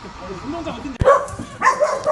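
Shelter dogs barking and yipping while playing, with a sharp close bark followed by lively yips and whimpers over a short stretch, with people talking and background voices mixed in.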